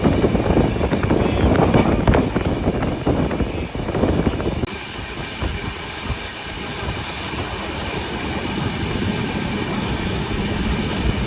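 A passenger train from Ahmedabad to Prayagraj, heading to the Kumbh Mela, rolls along with a continuous loud rumble and rattle heard from inside the carriage. The texture shifts to a smoother, steadier drone partway through.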